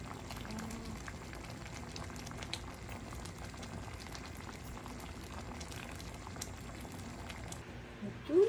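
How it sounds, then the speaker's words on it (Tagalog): A pot of shrimp and squash simmers in coconut milk, giving a faint, steady bubbling and popping with a few small clinks and a short scrape near the end. "Pakuluan na natin ng mga 2 minutes."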